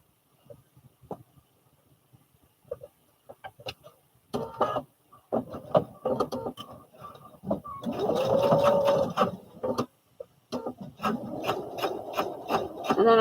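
A sewing machine set to a wider 3.5 stitch length runs steadily through fabric while being guided along the presser foot edge, with short bursts, pauses and a longer continuous stitching run, close and moderately loud.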